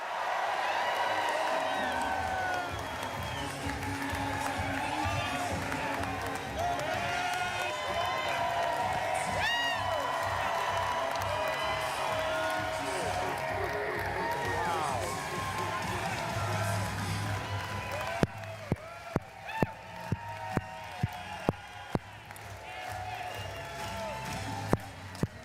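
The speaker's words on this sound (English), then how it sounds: "I want a big round of applause for the next president, Governor John Kasich" A large crowd cheers, whoops and applauds throughout a political rally for Governor John Kasich in Greece, New York, a dense sustained roar with voices mixed in and a few sharp claps or knocks near the end.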